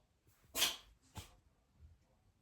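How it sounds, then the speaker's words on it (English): A cat sneezes twice indoors, one sharp close burst followed by a smaller second sneeze, with a quiet room around it. "That's my cat sneezing."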